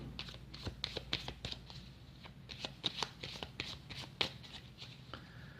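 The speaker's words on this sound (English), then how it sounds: "Okay, let me shuffle." Playing cards are shuffled by hand at a table, soft close riffling bursts and taps in a quick irregular rhythm, quiet and without talk.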